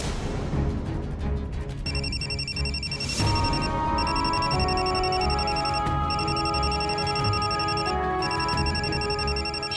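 An electronic phone ringtone repeats in a steady pattern of high tones, moderately loud, over a continuous bed of background noise and music.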